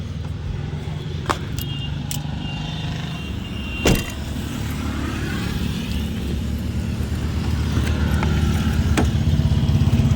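An empty truck drives along the road toward Delhi, its engine a steady low drone that builds slightly louder over time, with a few sharp clicks and rattles inside the cab.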